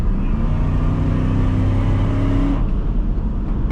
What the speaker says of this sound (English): So obviously with the V8, there's plenty of torque to climb those hills.